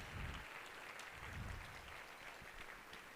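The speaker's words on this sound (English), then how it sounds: "Please, big round of applause." Audience at a 50th anniversary event for a Toledo nonprofit gives volunteers a round of applause, fairly quiet and distant-sounding, steady clapping over a low room rumble.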